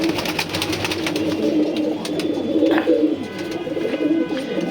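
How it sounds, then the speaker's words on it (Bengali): Racing pigeons in a loft, including a male bird, coo steadily in overlapping low calls nearby, a busy flock murmur with brief rustling. "এটা তার নর কবুতর"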